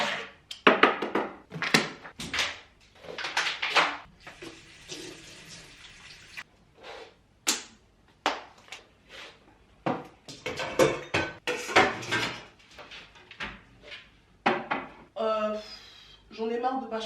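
Dishes being cleaned up after a meal: repeated clinks and clatters of plates and cutlery, bursts of running water and scrubbing, close by, with brief moments of humming near the end.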